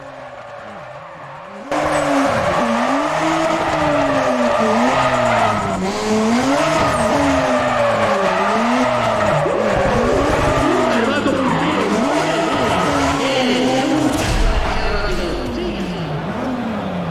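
A racing car in Need for Speed drifting and skidding, with continuous loud tire squeal rising and falling over a steady engine roar throughout the run, with no break.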